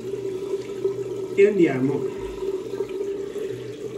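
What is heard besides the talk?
tap water running while wetting a shaving brush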